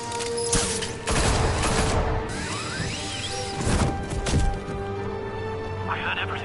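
Guards open fire on Batman in the Batman Telltale game, a loud close fusillade of rapid shots with sharp cracks and crashing impacts in bursts, layered under urgent shouting voices.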